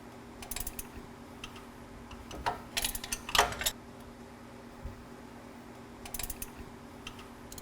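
An 18mm socket on a ratchet working the three bolts that hold the front hub unit on a 2011 2WD Dodge Ram: scattered light metallic clicks and short ratcheting bursts over a low steady hum, close and fairly quiet.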